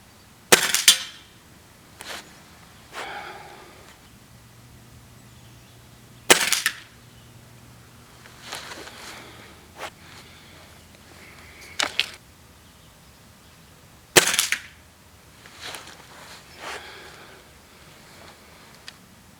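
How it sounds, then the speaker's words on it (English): A break barrel airgun fired while rested on a bag, with three sharp, loud shot cracks spaced several seconds apart, plus quieter clicks and handling sounds of cocking and loading in between. "the next 5 I'm going to take with using the gun on the bag here"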